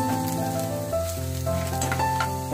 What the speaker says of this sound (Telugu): గోల్డెన్ కలర్ వచ్చే వరకు మనం వేయించుకోవాలి.